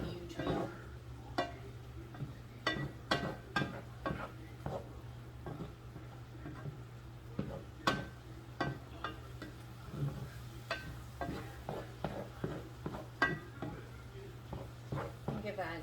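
Meat and onions sizzle in a stainless steel pan, a low steady fry broken by frequent sharp clicks and scrapes of stirring, close and fairly quiet with no talk.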